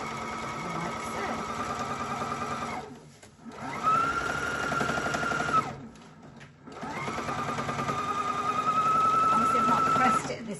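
A domestic sewing machine runs in quick, steady bursts as it stitches quilt fabric along a raw edge, whirring close by with a brief stop between runs.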